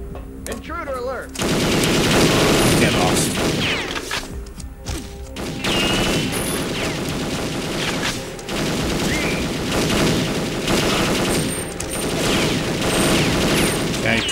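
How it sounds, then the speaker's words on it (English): Sustained automatic gunfire in the Perfect Dark video game, loud rapid bursts rattling almost continuously with short pauses between volleys and mechanical clicks. "Why does my gun always need reloading when I'm in the middle of a firefight?"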